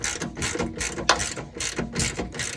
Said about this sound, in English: And then we're going to tighten this bolt all the way up.